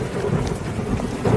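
A dense, unbroken wash of heavy rain with a low rumbling undertone of thunder fills a short stretch, loud and close with no voices.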